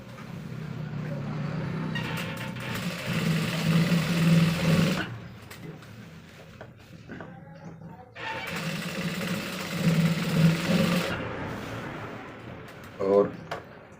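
Sewing machine stitching a belt onto a pair of pants, running in two sustained bursts of steady motor whir with a pause between, a person speaking over and between the runs.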